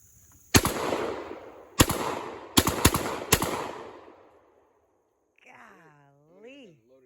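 Five loud, sharp shotgun blasts from a Remington 1100 designed in 1963, fired outdoors at irregular intervals with short echoing decays, followed by a brief voice afterward.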